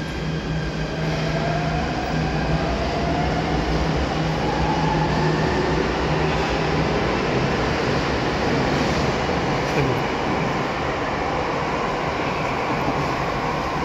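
A Jakarta MRT subway train rides along with a continuous loud rumble of wheels and cabin noise. The sound holds steady throughout, and faint whining tones rise and fall within it.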